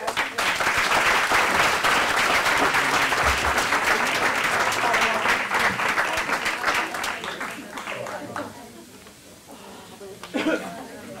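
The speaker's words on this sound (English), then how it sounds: "we'll give you another clap and you can sit down" An audience claps for presenters at an improvement method report-out, dense sustained applause for about eight seconds that tapers off, followed by brief room sounds and a few last claps.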